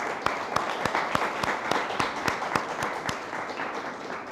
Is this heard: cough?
no